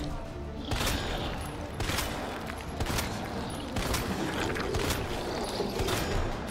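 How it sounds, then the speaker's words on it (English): Gunshots fired in the video game Resident Evil 2, a steady series of regular shots roughly every second over dense, constant game noise. "stand still so I can shoot you"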